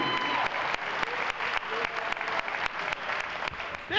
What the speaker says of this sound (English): Everyone please, a round of applause for the senior members of the JFK basketball team